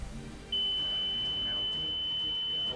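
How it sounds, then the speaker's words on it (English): A boat's engine starter alarm sounds while the red button is held down on a sailboat: a single steady high-pitched electronic tone starts after a brief pause and continues unbroken over quiet background noise. "always hold it until that alarm goes off"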